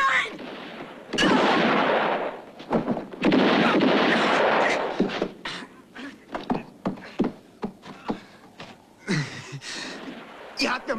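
Gunfire in a German-dubbed western: loud, sharp shots and bursts of firing ring out close by, then a string of scattered cracks, with voices shouting in between.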